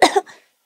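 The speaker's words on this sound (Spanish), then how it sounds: "Toser." A single short cough from a person, close and clear, with a quick burst followed by a fainter second exhale, then silence.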